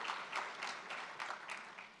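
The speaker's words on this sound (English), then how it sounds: "Let's give them a round of applause." An audience at a business market-update event claps for its sponsors. The applause is brief and faint, swelling in small uneven bursts across about two seconds.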